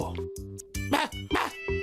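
Cartoon dog barking in a Motu Patlu episode, a German Shepherd among the pets: several short yapping barks in quick succession over a steady musical drone, loud and close.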